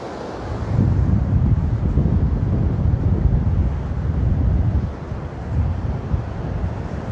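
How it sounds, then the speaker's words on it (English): Small waves wash onto the Blue Flag beach at Westward Ho! in Devon, a low continuous rumble of surf heavily buffeted by wind noise on the microphone, with no talking. "So just some small waves today, and I'm about to get my feet wet"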